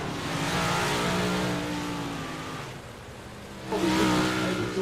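Big block modified race cars roar around the Eldora dirt track during a heat race, a loud continuous engine drone that eases, then surges louder as cars pass close near the end.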